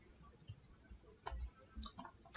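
Quiet, close computer mouse clicks on a Windows 11 PC, a few sparse, sharp ticks spread unevenly over a couple of seconds, with a slightly louder click at the end and no talking.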